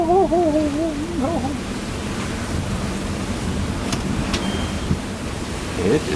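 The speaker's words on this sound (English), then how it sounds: "But this gust keeps coming." Strong wind gusts buffet a sailboat at sea, a steady broadband roar of wind on the microphone with water wash beneath, loud and close throughout, and a voice briefly heard at the start.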